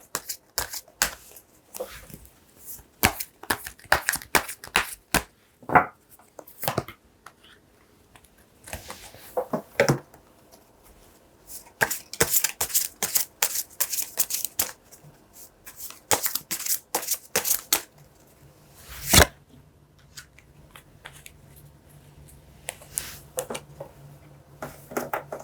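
Tarot cards are shuffled by hand at close range in bursts of crisp riffling and flicking, with short pauses between bursts and no talking.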